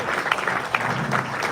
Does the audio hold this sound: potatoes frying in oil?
no